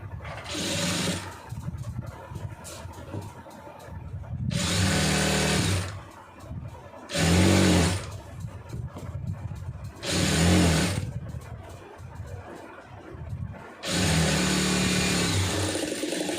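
A sewing machine stitches a churidar pant in five loud, steady runs of whirring, rattling motor noise, with quieter pauses between them.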